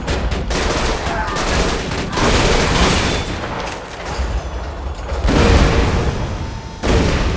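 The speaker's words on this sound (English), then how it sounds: "Sentry gun prime!" Sentry gun firing in Borderlands 2, a steady run of rapid automatic shots with booming impacts that pause briefly near the five- and seven-second marks, loud and close.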